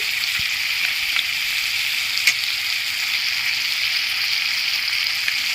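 Soaked cumin and turmeric powder with ginger paste sizzling in a hot frying pan, a steady loud crackling hiss with a few soft stirring clicks, no talk.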